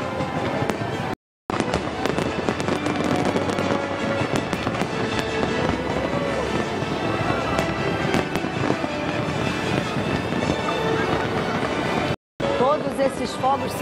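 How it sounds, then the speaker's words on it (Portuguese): New Year's fireworks exploding over Copacabana beach in Rio de Janeiro, a dense, continuous barrage of loud booms and crackles with a broadcast voice talking over the display. "Esses fogos são disparados eletronicamente"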